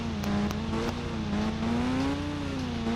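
A ZX10R motorbike in the Indian Bike Driving 3D game drones with a steady, loud engine hum that rises and falls slightly in pitch over a few seconds, no voices.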